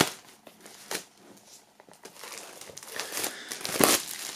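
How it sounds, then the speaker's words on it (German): Plastic foil wrapping is peeled and crinkled off a boxed album set, with close, continuous crackling rustles that grow denser toward the end. "Und dann können wir hier wunderbar die Folie entfernen."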